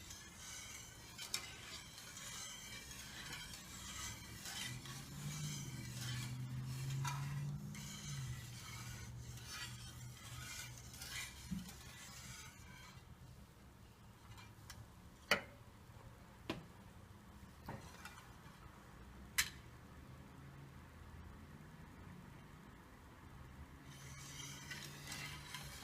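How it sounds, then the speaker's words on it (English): Stuffed pepper filling is stirred in a pan with soft, irregular scraping and shuffling, a low sizzle beneath, and a few sharp utensil clicks against the pan, all fairly quiet and close, with no talking. "So you keep stirring, and I've raised the temperature."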